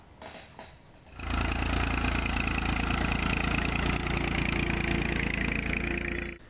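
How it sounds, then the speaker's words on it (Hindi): A farm tractor engine starts up on a field and settles into a steady, fairly loud running drone that continues without a break. "ट्रैक्टर के ब्लेड को ठीक करता, अपनी ज़मीन में हल चलाता"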